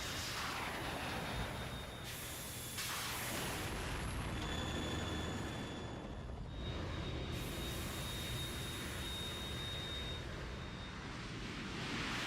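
A Harrier jet in a Metal Gear game roars loud and continuous for about twelve seconds, with a whining high engine tone that fades and returns, and no talk.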